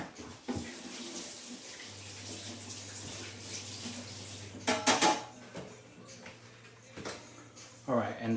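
A kitchen knife sticky with garlic is rinsed under a running tap in a home kitchen, a steady stream of water running for several seconds with a few clinks of metal and a voice briefly talking over it.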